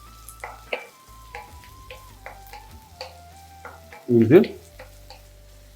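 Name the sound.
onions and curry leaves sautéing in a pan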